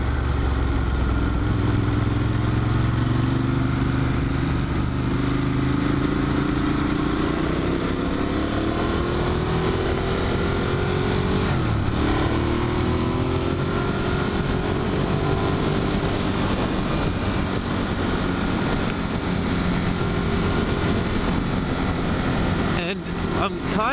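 Ducati Monster 1200 motorcycle engine droning steadily under way, loud and close, its pitch rising and falling with throttle as a rider talks over the continuous wind-buffeted roar.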